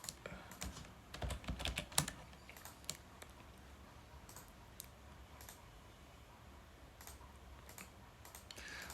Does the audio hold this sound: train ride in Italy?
no